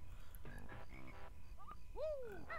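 Cartoonish frog croaks from the Banjo-Kazooie video game, a series of quick ribbits followed by rising and falling warbling calls over a steady game soundtrack, loud and close.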